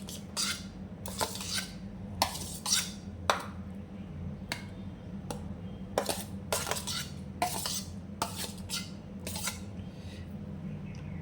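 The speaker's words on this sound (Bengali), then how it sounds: "এবার এই আমগুলো আমি এর মধ্যে মিশিয়ে দেবো" A spoon clinks and scrapes against a bowl in a quick irregular series of sharp taps while chopped mango is stirred into chilled milk, close and fairly quiet with a low steady hum beneath.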